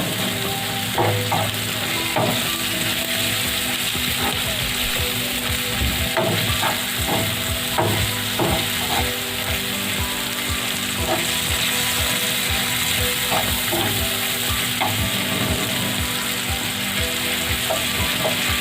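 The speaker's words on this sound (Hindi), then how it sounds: "इस तरह से बस फ्राई करेंगे अपने प्याज को 2 से 3 मिनट।" Onions fry in hot oil in a pan, a steady sizzle with repeated metallic scrapes and clicks as they are stirred, continuous and close for the whole stretch.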